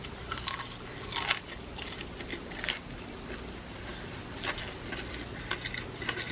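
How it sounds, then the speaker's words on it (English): Crisp crunching bites into fried restaurant food such as onion rings or fish and chips, several close, quiet crunches spread across the moment with soft chewing between. "You hear that crunch?"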